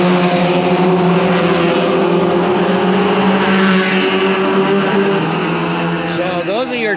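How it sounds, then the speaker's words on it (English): Toyota Yaris race cars at a GT race in Thailand, a dense layered drone of several engines holding steady pitch at speed, loud and close, with one rising engine sweep near the end. "So those are your Toyota Yarises. They race the shit out of them."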